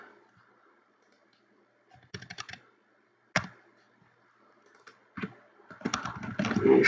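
Keystrokes on a computer keyboard as an SQL query is typed, coming in short separated bursts of clicks with pauses between them, growing denser and louder toward the end.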